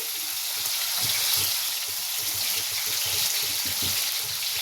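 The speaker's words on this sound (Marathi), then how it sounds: "हे मोठ्या गॅसवरच आपल्याला छान परतायचं आहे." Chicken sizzles steadily in a pan over a high flame, a continuous dense frying hiss with soft stirring knocks underneath, close and fairly loud throughout.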